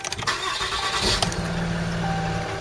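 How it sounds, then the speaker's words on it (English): A 2014 Dodge 5500 truck engine running close by with a steady idle that rises slightly as it idles up to power a winch, with a few clicks and knocks at the start. "All you do is turn it on, hit the set, and it idles up to about 11"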